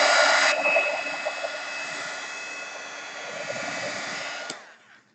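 A hair dryer runs steadily for about four and a half seconds, drying paint on a piece of artwork, then clicks off and the whir fades out.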